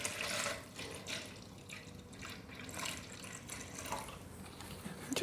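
Liquid trickles and splashes as water is poured to top up distilled wine to 400 millilitres, a soft continuous pour with faint bubbling and drips, close and fairly quiet.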